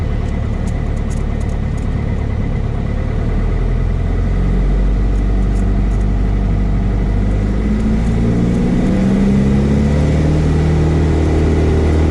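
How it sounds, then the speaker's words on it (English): A Cessna 172S piston engine runs steadily before takeoff, a continuous low droning rumble heard from inside the cockpit with no pauses or talk. "Engine sounds good, good oil pressure."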